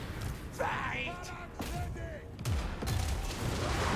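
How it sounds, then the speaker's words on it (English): Dwarf cannons firing artillery in a Total War: Warhammer 3 battle, a few heavy booms and thuds spread across a few seconds beneath someone talking throughout. "Ooh, that was a nice shot from you, cannons."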